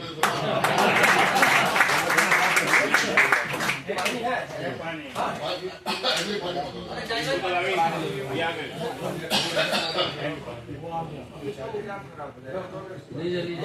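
A crowd at a mushaira poetry gathering in Meerut claps in a steady, moderately loud patter, mixed with chatter, chuckles and a voice speaking throughout.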